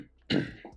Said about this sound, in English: I have a cough, sorry about the coughing.